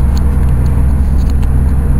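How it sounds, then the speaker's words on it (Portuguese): Fiat Uno Turbo car with its engine running roughly and sputtering, a steady loud low rumble that continues without a break and stays close for the whole stretch. "Esse carro tá pifando pra nós aí"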